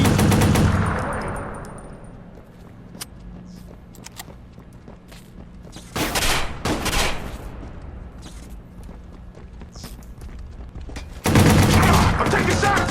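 Bursts of gunfire in the Watch Dogs video game, with a loud volley at the start, quieter scattered shots and steps in the middle, and two more heavy bursts later, all loud and close.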